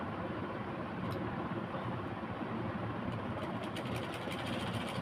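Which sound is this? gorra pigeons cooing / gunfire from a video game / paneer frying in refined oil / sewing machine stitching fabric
sewing machine stitching fabric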